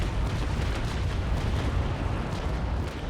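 Deep rumbling naval cannon fire in the Naval Action sailing-warship game, a dense, loud, sustained broadside roar with no speech.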